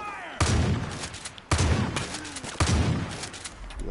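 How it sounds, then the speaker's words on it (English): Gunfire in Far Cry 5, three loud, booming shots with long reverberant tails spaced about a second apart, heard close and prominent. "Hey, who's shooting?"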